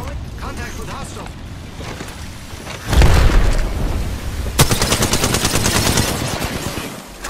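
Automatic gunfire in the video game Apex Legends, likely from an Alternator submachine gun, swelling into a loud rapid burst mid-clip after a quieter stretch of background game noise, with a voice speaking over parts of it.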